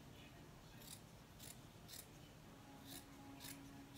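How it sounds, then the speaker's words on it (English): Scissors snip through the fabric edge of a handmade travel blanket, trimming away bulk: about six separate crisp cuts spaced irregularly, close and moderately loud over a faint low hum, with no talking. "I'm gonna cut some of this edge off too."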